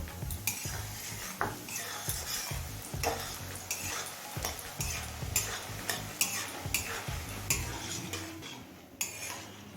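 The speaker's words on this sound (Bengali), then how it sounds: "তেলটা হাই হিটে গরম করে নেওয়ার পর এবার কিছুটা মুসুর ডালের বড়ি ভেজে নেবো" Red lentil dumplings frying in oil heated on high, with a faint sizzle, punctuated by repeated clinks and scrapes of a utensil stirring in the pan, fairly quiet and close.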